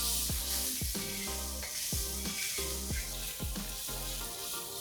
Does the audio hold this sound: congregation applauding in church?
no